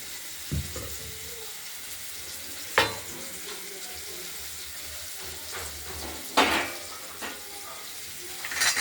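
Tomatoes go into a pan of paneer curry with potato, a low steady sizzle of frying punctuated by a few sharp clatters and stirring scrapes, close and moderately quiet, with no talking.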